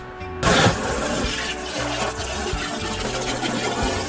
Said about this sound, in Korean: 이대로 한 10분 정도 그대로 두고 찬물에 흘려 보내주시면 돼요